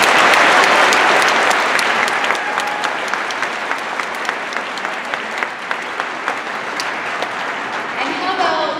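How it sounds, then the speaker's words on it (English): An audience applauds advanced musicians of a youth symphony orchestra at a large concert, steady dense clapping filling the hall and slowly thinning, with a few louder individual claps near the end. "let's hear a little applause from our advanced musicians"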